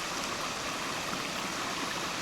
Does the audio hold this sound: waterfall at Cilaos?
yes